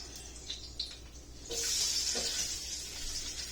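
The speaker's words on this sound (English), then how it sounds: "So let me put them in the pan now. Watch what happens. It's gonna start sizzling." Beef roulade rolls are set into a hot pan and begin to sizzle, a few soft clinks and placements, then a sudden bright hissing fry that holds steady and close, with no talking.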